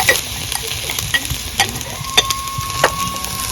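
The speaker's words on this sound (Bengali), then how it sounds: "এবার ভালো করে ভেজে নেব" Potatoes with green chili, salt and turmeric frying in a pan, giving a steady close sizzle broken by repeated scraping stirs of a spatula, with no talking.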